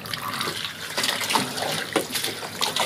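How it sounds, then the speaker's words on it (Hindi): Water splashing and gushing as it is poured onto dry soil on a sunny rooftop, a steady close, fairly loud wash with uneven surges, heard alone. "पानी हमने डाल लिया क्योंकि भाई यार धूप बहुत ज़्यादा है और मिट्टी को प्यास लगती होगी अभी"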